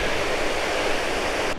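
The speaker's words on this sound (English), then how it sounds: "This would be Aurora Creek, so now we just have to figure out how to cross it." Aurora Creek on the Great Divide Trail in the Canadian Rockies rushes past as a loud, steady broadband wash of flowing mountain water that holds constant and then cuts off abruptly.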